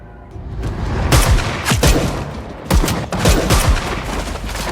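Bursts of gunfire from a film action scene crack and boom in rapid volleys over a constant low rumble, loud and close, with several clustered shots around the first and third seconds.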